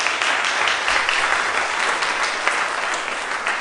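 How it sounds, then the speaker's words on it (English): Conference audience clapping for a panel after a talk on AI and society, a dense continuous round of applause from many hands, fairly loud and sustained with no talking over it. "let's give a round of applause to our panel"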